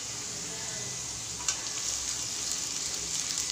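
Soaked, drained flattened rice (chira) is stirred in a frying pan, making a soft, steady sizzle with faint scraping clicks of the stirring spoon, heard at low level and close by.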